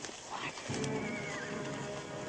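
Horses whinny loudly in a western film, a long shrill neigh with hoof clatter and a busy outdoor scene behind it.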